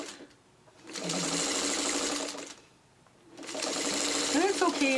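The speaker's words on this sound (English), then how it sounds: "So I'm going to sew it this way." A sewing machine stitches fabric in two steady runs separated by a short pause, its motor whirring close and loud, with a brief voice at the end.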